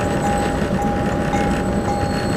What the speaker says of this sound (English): what cows are thinking when watching a train passing by